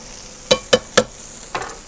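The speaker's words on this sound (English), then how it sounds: "that's like a garlic puree going in there now" A pan of mushrooms sizzling as garlic puree goes in, three sharp evenly spaced scraping or tapping hits over a low hiss, followed by a softer burst of sizzle.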